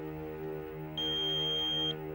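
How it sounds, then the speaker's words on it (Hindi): A single steady electronic answering-machine beep sounds for about a second, clear and fairly loud over a low mains-like hum. "प्लीज बीप के बाद अपना मैसेज छोड़ दें"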